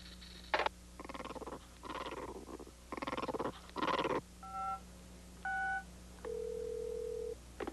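A string of electronic car phone tones, buzzy warbling bursts and short beeps in an irregular sequence, ending with a longer steady tone, heard close.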